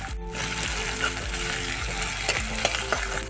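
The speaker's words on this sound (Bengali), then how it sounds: "এই দেখো সুন্দর মতো আমার পেঁয়াজ আর রসুনগুলি ভাজা হয়ে উঠছে" Onions and garlic fry in hot oil in a karai, giving a steady, close sizzle that holds throughout, with faint scraping and clinking from stirring underneath.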